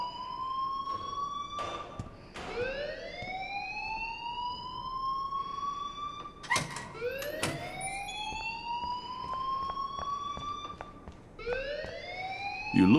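Repeated rising electronic wails of a school alarm in the Life Is Strange video game, several overlapping sweeps sounding one after another, with occasional clicks and faint voices beneath.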